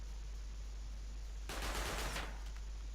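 Turret gunfire in the video game Rust: a sudden rapid automatic burst starts about halfway through, lasts around a second and a half, then tails off over a steady low background hum.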